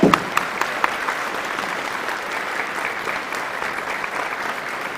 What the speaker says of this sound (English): Give them a big round of applause as they come up.